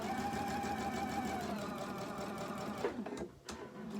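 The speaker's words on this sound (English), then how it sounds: "Now I'm going to sew with my scant 1/4 inch seam allowance." Sewing machine running steadily as it stitches quilt fabric with a scant quarter-inch seam, a close, continuous motor whir that slows and stops near the end with a few brief clicks.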